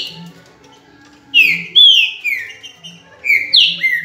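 A green-winged saltator, the trinca-ferro songbird, sings loud, clear whistled phrases close by, in two bursts of rising and falling notes separated by a short pause, with only faint background sound.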